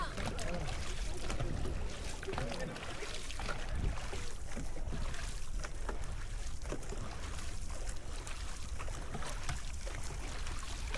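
A dragon boat crew paddles together during practice on open water, with rhythmic splashes and strokes close by under wind noise, and people talk and call out throughout.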